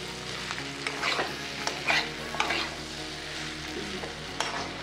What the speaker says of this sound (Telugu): వాటర్ వేయకుండా ఆవిరితో అలా ఫ్రై చేయాలి.